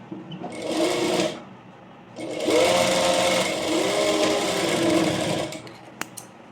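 Sewing machine stitching the shoulder seam of a plain frock, running in two bursts: a short run of about a second, then a longer steady run of around three seconds, close and clear.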